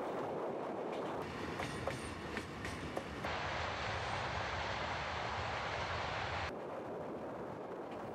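A train runs along the rails in Southeast Asia, a continuous rumbling roar with faint clicking and squeal in the first half, then a denser wash as it passes close, with no speech.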